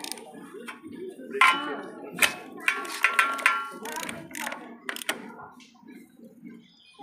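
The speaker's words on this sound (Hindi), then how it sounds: "इस तरह से हमें तीस नंबर वाले जो बोल्ट है उसे पहले फुल टाइट कर लेना है" A wrench ratchets in short metallic clicks while tightening a size-30 bolt on a Royal Enfield Classic 350 during a brake shoe and chain adjustment job, the clicks coming in irregular bursts close to the mic.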